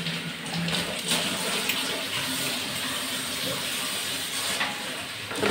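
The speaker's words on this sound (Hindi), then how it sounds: "तो इसको धो लेना थोड़ा सा" A kitchen tap runs steadily while something is washed under it in a village home, a continuous close splashing hiss with slight shifts as the flow is interrupted, no talking over it.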